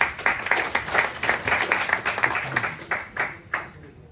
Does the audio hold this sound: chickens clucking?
no